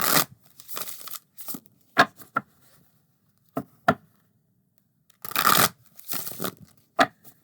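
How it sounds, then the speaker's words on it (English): Tarot cards from The Body Tarot deck by Emma McArthur being shuffled by hand, several quick riffling bursts of card rustle separated by pauses and soft taps, close and fairly loud with no talking. "Let's see how it is to shuffle here."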